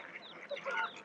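Ducks quacking at a lakeside in the Lake District, several short calls scattered through a steady outdoor background, moderately close.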